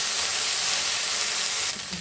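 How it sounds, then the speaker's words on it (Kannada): Fresh green peas sautéing in a hot pan for a millet noodle dish, producing a loud, continuous broadband sizzle and hiss that holds steady throughout, with a slight change and a few faint clinks near the end. "ಇವಾಗ ಬಟಾಣಿ ಹಾಕೋತೀನಿ, ಹಸಿ ಬಟಾಣಿ. ಇದೊಂದು 5 ಮಿನಿಟ್ಸ್ ಬಾಡಿಸ್ಕೊಳ್ಳೋಣ."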